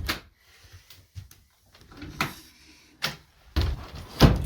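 An office door drags and scrapes against a piece of mold as it is pushed open, giving several uneven rubbing and knocking bursts close by, ending in louder scraping thumps.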